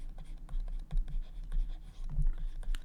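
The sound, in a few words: writing out a maths solution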